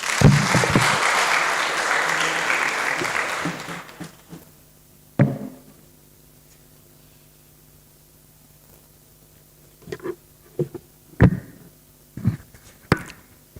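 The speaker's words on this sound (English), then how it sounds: "Let us give her a big round of applause." Audience applause at a college poetry and book review competition, a dense burst of clapping for about four seconds that cuts off, followed by quiet room tone with a few scattered knocks and thumps.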